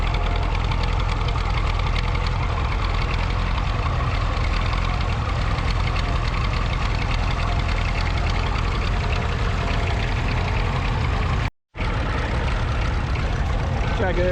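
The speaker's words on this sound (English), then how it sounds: "You can't beat the purr off the exhaust of the old P6" An old Rover P6 exhaust purrs in a steady, even drone while driving through a transport show field, close and continuous, with a brief dropout near the end.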